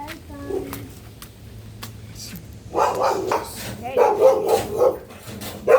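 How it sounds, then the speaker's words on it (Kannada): A house dog barks several times at close range in sharp, loud bursts, while a person talks around the barking. "ಈಗ ಸಾನ್ವಿ ಮನೆ ನಾಯಿಗೆ ನನ್ನ ಕಂಡ್ರೆ ಆತಿಲ್ಲ ಗಾಯ್ಸ್"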